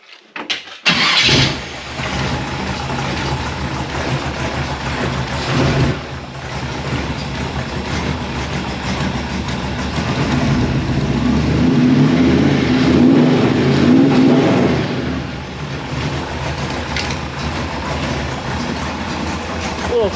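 A car engine cranks and fires up under the hood, then settles into a steady close idle that swells louder midway before easing back, with brief speech present.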